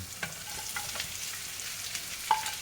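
Onions frying in a pan for pork humba, a soft steady sizzle with occasional light clinks and scrapes of stirring, close and fairly quiet.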